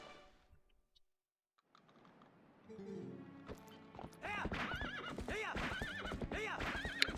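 Goats stampeding in the video game Twilight Princess HD: a rising clatter of hooves with bleating calls, loud and continuous after a quiet start.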